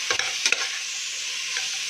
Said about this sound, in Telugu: ఒకసారి అన్నీ కూడా బాగా కలుపుకోవాలి